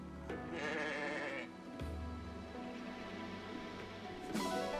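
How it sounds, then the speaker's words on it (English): Bleating of an Elosian sheep from the video game Fire Emblem Engage, a few synthetic bleats over a steady game music bed, fairly loud and close with no voices. "Adopt the Elosian sheep and bring it back to the Somnial."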